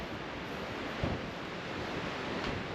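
Strong wind roars continuously across an open campsite, a broad steady rush buffeting the microphone with a couple of brief louder gusts.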